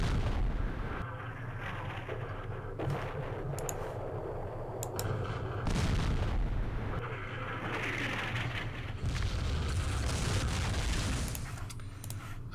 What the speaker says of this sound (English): Okay, we have artillery, so let's start using it. We're going to hit that position.